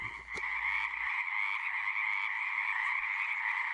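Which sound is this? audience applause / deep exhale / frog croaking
frog croaking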